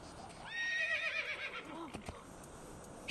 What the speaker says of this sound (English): It's just a horse, of course.